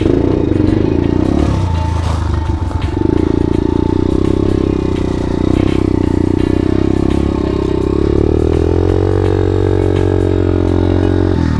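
A pit bike engine runs steadily and loud for the whole stretch, its low idle hum rising toward the end, with brief clattering and scraping around the two-to-three second mark.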